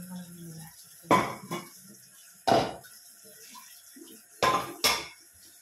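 Dishes being washed: pots and cutlery clatter in sharp bursts, four or five distinct clanks spaced a second or so apart against a quiet background.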